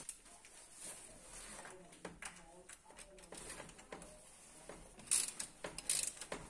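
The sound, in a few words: ratchet tightening oil drain plug on Opel Astra H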